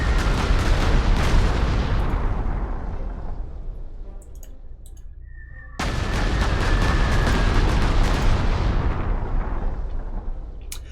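Heavy rumbling blasts from strategic bombing in the wargame Panzer Corps, set in 1940 around Arras: dense, loud booming bursts that swell, ease off into a quieter gap, then surge back again with no talking.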